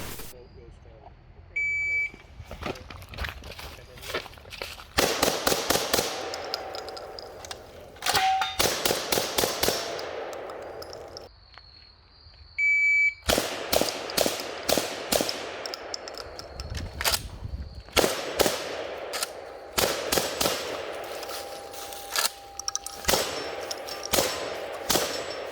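An IWI Tavor TS12 12-gauge bullpup shotgun firing at a shooting range, sharp loud blasts in quick runs and clusters separated by pauses, with beeps and talk in between.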